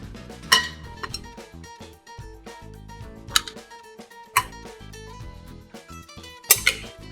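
Cowboy caviar mix being spooned from one bowl into a presentation bowl, with irregular clinks and scrapes of utensils against the dishes and a few sharp louder knocks, close and alone.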